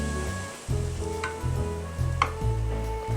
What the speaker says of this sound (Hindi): सबसे अच्छी बात यही है कि जब हम इसमें गरम तेल डालते हैं